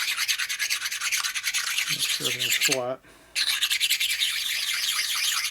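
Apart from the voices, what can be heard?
honing stone rubbed across engine gasket surfaces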